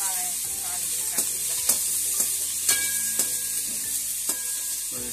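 Onion and tomato sauté in oil for mushroom gravy, giving a constant bright sizzle broken by occasional spatula taps and scrapes against the pan.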